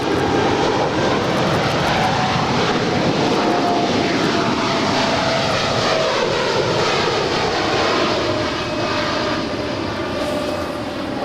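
A heavy Boeing 747 jet departs a runway at Los Angeles International Airport, its engines producing a loud, continuous broadband roar that holds steady throughout and eases only slightly toward the end.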